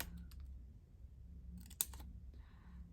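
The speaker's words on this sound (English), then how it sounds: "So with my little scissors, I might cut those bits out." Small scissors snip paper pieces for a Christmas envelope journal, a few faint cuts followed by one sharp close snip, with light rustling and low background hum.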